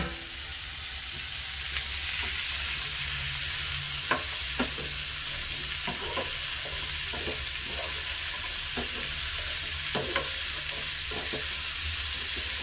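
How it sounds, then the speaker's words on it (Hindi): Green chillies, petha and tomato fry in a pan with a steady, close sizzle throughout, broken by scattered stirring scrapes and soft clicks of a utensil against the pan. "तो हरी मिर्च भून ली है मैंने और अभी डाल देते हैं पेठा"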